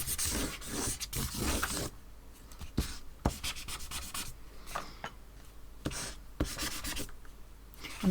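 A pen scribbling over card that already carries graphite, with close, dry scratchy strokes in bursts, some rapid back-and-forth runs and short pauses between them.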